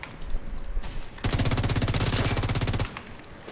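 Rapid machine-gun fire in a video game shooter, one sustained loud burst of evenly spaced shots lasting over a second, with quieter game ambience and a brief voice before it.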